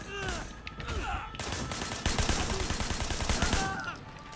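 Rapid gunfire in the Sleeping Dogs: Definitive Edition game, dense bursts of shots and impacts layered with other game effects, loud and continuous throughout.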